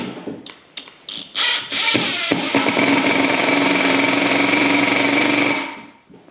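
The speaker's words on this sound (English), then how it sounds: "let's try driving this screw in. Got it on level 1" A Hercules 20V brushless impact driver on level 1 drives a screw, starting with a few short trigger blips and then settling into a loud, continuous rapid hammering rattle for about four seconds before stopping.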